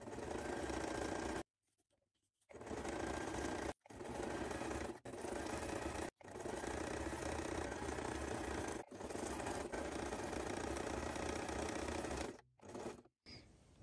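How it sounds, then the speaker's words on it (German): A domestic sewing machine stitching fabric in steady whirring runs, each a few seconds long and broken by short pauses, ending in a few brief stitches close by. "Achtung, ich nähe wieder."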